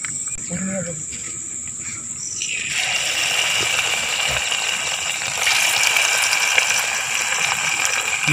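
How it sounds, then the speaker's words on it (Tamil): Water is poured into a hot pan while egg chilli cooks. A quieter start gives way to a louder, steady hiss and sizzle partway through that continues to the end. "தேவையான கொஞ்சோண்டு தண்ணி ஊற்றிக்கிறோம்"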